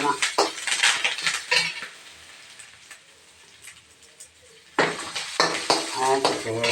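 Coconut rice is stirred and sautéed in a pan with grated coconut, a spoon scraping and clinking in quick bursts over a soft sizzle, with a quieter lull in the middle.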